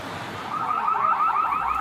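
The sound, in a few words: car alarm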